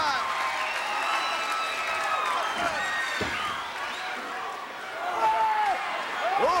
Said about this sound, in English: And this capacity crowd coming alive.